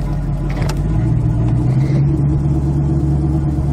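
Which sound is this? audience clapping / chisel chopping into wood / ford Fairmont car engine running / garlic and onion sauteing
ford Fairmont car engine running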